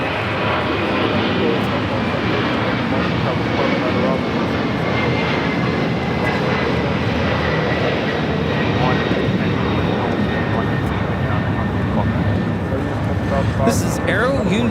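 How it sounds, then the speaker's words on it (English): An Airbus A300 of Aero Union departs LAX bound for Monterrey, a loud, continuous jet engine roar that holds steady through the takeoff run and climb, with no break. "This is Aero Union 7005 taking off to Monterrey, Nuevo León, Mexico on the A300."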